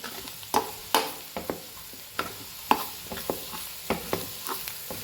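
Masala for a radish curry frying in a pan: a crackling sizzle under repeated sharp scrapes and taps of a spoon stirring at an uneven rhythm, close and clear with no talking.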